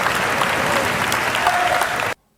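Loud, steady applause from a seated audience during a formal speech, dense clapping sustained for about two seconds before cutting off abruptly.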